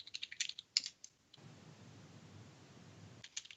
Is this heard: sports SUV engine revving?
no